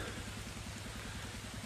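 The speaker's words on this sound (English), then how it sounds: "It's raining a little bit to see me getting wet." Light rain falls steadily outdoors on a garden plot sown with crimson clover, a soft continuous hiss of drops pattering on surfaces with no break.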